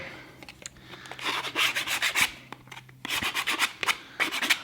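Sandpaper rubbed by hand over a small wooden part flat on a bench, giving repeated close rasping strokes in two bursts with a brief pause between, alone without talk.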